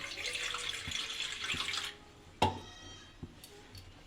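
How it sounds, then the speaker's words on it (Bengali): Water pours steadily into a pan to make sugar syrup for a flour-and-sugar pitha, a close rushing splash for about two seconds that stops abruptly, followed by a few faint drips and knocks. "জল দিয়ে দেব আমি"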